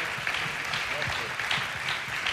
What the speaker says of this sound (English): Clap your hands if you believe it.